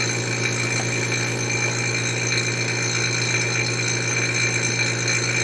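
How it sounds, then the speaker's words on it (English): A vacuum pump runs continuously during vacuum forming of a leather gun holster, giving a steady, even mechanical hum with a constant drone and no breaks. "Now I'm going to turn the vacuum pump off"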